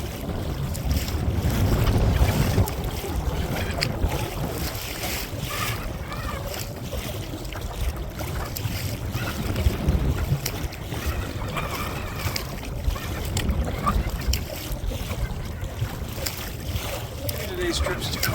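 Strong wind buffets a small boat on the river, a continuous roaring rush of gusts and microphone wind noise with water sloshing beneath, steady throughout.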